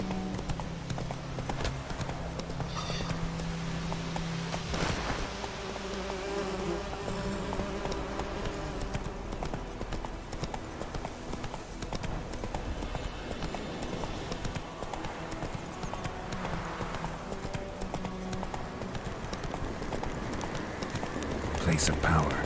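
Roach, Geralt's horse in The Witcher 3: Wild Hunt, gallops with steady rhythmic hoof clip-clops throughout, layered over game music and ambience, with a voice speaking over it.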